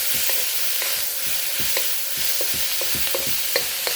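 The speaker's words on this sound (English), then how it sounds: "Keep on stir frying." Steady sizzling with repeated scraping and clanking as lo mein noodles are tossed and stirred in a hot wok, a rhythmic metallic clatter throughout.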